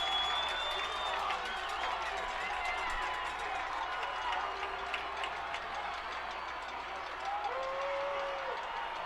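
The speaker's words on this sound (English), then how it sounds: "That arrives a cheer from the Northwest side and a boo from the Shawnee Mission South side." A crowd of spectators at a high school boys football game between Shawnee Mission Northwest and Shawnee Mission South roars with a continuous mix of cheering and booing, while a voice talks over the din.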